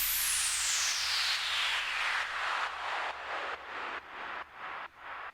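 White noise sweep with an LFO whose depth rises over time, a loud hissing wash filtered downward that breaks into increasingly deep rhythmic pulses as it goes.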